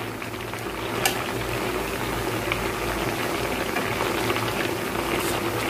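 A pot of sweet sakkarai pongal bubbles at a steady boil on the stove, a continuous close bubbling hiss with a low hum underneath, alone without voices.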